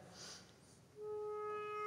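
A clarinet from the Munich Philharmonic enters with a single soft, steady sustained note after a moment of faint room hiss, holding it quietly to the end.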